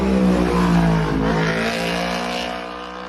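A racing motorbike at the Isle of Man TT road races screams past with a loud, high engine whine that holds steady and then fades slightly as it recedes.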